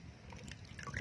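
Water drains out of a succulent pot after a thorough soaking, a faint, continuous trickle with scattered small drips and a slight gurgle close by.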